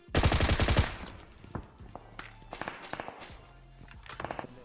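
A loud burst of rapid automatic gunfire in PUBG Mobile opens, followed by scattered single shots and short bursts at varying distances, with faint footsteps in between.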